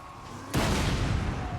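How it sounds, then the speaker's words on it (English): Artillery cannons fire in the fantasy battle game Total War: Warhammer 3, a sudden heavy boom partway in that rolls into a sustained rumbling barrage. "we're going to start firing the rest of our artillery. Cannon."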